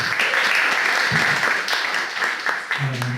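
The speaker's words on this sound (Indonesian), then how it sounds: "Tepuk tangan untuk Bung Fatir." Steady applause from a crowd fills the clip, with a voice briefly speaking over the clapping near the end.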